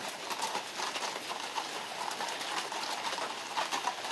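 Horse-drawn royal carriages clip-clopping at a steady rhythm, heading toward the Royal Mews at Windsor Castle during a state welcome ceremony with guards present; the hooves sound moderately distant over a broad crowd-and-outdoor wash.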